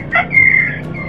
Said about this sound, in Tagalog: Malaki na manok ito. Matangkad.